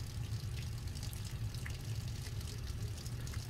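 Water runs steadily from a leak, a constant low, even rush of flow that continues unbroken throughout and stays faint.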